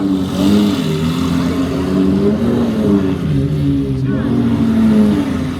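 Ferrari 250 out on the street in Monaco, its engine roaring and revving loudly and close by, the pitch rising and falling in sustained sweeps.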